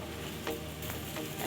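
Lachha paratha frying in ghee on a hot tawa gives a steady close sizzle with soft crackling bursts throughout, and no voices.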